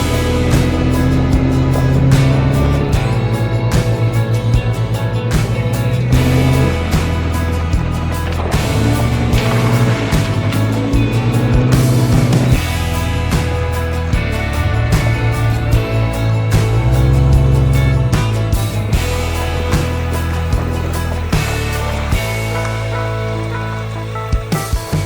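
A 4x4 vehicle grinding along a rough, stony off-road mountain track near Badgoi Pass, loud and continuous with rattling, crunching gravel and jolts from the rocks throughout, engine droning underneath.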